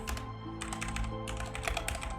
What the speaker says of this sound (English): I was typing something, Ghosty, and accidentally said he.